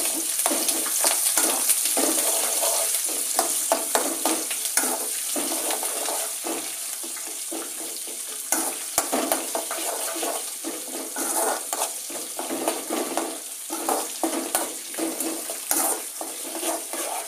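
Tomato chutney tempering with crushed garlic and curry leaves sizzles in a pan as it is stirred, giving a continuous crackling fry broken by repeated scraping strokes, with no talking.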